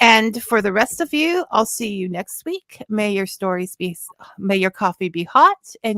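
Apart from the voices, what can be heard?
No everyday noises stand out.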